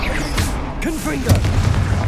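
A Confringo spell explodes in Hogwarts Legacy, giving a loud booming burst up close, followed by crackling pops and a voice-like gliding tone over dense game noise.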